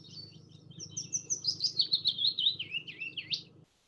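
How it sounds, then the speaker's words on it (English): A willow warbler sings in Sussex in summer, giving one clear, sweet phrase of quick notes that cascades downward, close and distinct over a faint low hum. "And this is the willow warbler."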